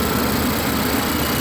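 A 2016 Nissan Juke SL's small 1.6-liter turbocharged engine with timing chain runs at a quiet, steady idle, a continuous low hum with no talking over it.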